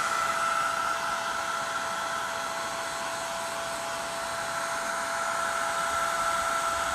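A hair dryer blows steadily on a poured acrylic paint rock, a constant, close, even rush of air with a whining motor tone that never changes over seven seconds, with no talk.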